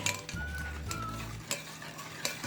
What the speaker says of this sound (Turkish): Öncelikle bir karıştırıyoruz.